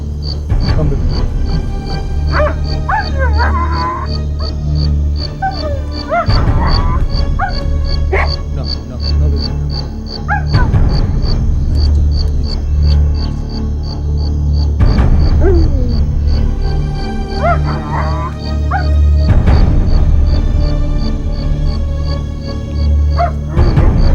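A dog that bit an injured man yips, barks and whimpers at an investigation scene, short sharp calls recurring through the scene close by, mixed with steady background hum and people talking.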